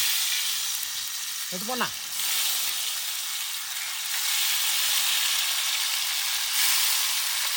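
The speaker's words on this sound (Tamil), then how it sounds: "எண்ணெய் காஞ்சித்த நம்ம வெட்டி வச்ச மசாலா தடவை மீனை போட்டுக்கலாம்." Masala-coated stingray fish fries in hot oil with a loud, continuous sizzle and crackle. A voice speaks briefly near the start.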